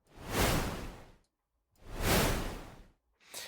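A synthetic water whoosh with an added noise layer sweeps past twice as loud, full-band swells rising and fading over about a second each, with a third beginning at the end.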